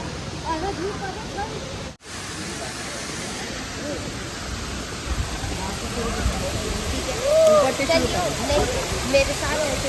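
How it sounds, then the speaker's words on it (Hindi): A waterfall on the Kedarnath trek roars in a steady, dense wash of rushing water, loud and continuous, with a brief dropout near the start. "इस ट्रैक पर कुछ इस तरह के झरने देखने को मिलेंगे आपको।"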